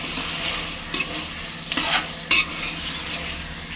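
Taro pieces in a tamarind-style taro curry being stirred in a thick-bottomed pot, giving a steady close sizzling hiss broken by a few sharp scrapes of the spoon against the pot.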